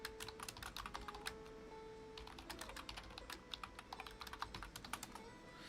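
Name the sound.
typing on a computer keyboard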